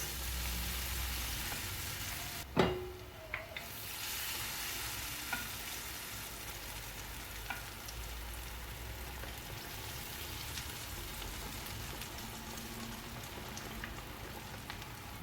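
Vegetables for tempura fry in hot oil, giving off a steady, faint, crackling sizzle, with a sharp clatter near the start and scattered small pops.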